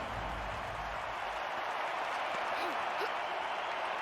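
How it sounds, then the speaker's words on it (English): An Olympic stadium crowd at the London 2012 Games applauds after a high jump attempt, a steady wash of distant clapping and cheering under a commentator's voice. "Crowd responding to that."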